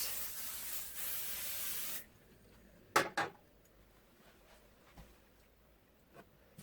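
A steady hiss of aerosol basting adhesive sprayed onto a quilt on an ironing board for about two seconds, then it stops, followed by a couple of sharp clicks and quiet handling noises.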